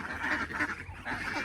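Loud ducks, with a chicken nearby, call close by in overlapping harsh squawks that continue steadily across the whole short stretch.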